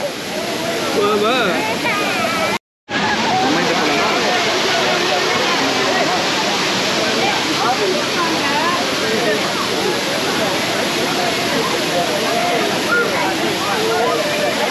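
Five Falls waterfall at Courtallam in Tenkasi, a loud, steady roar of rushing, splashing water close by that fills the whole clip, broken only by a brief cut near the start.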